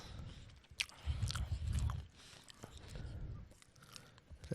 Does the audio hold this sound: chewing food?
yes